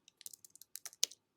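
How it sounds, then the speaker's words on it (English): Someone types a short word on a computer keyboard: a quick, close run of about a dozen light key taps in an otherwise quiet room, with a slightly firmer final press. "I'm going to type in the word"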